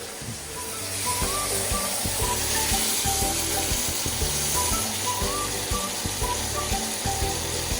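Butter sizzles and spatters in a hot pan while a steak is basted, with steady frying crackle and a repeated rhythmic metallic clacking running throughout.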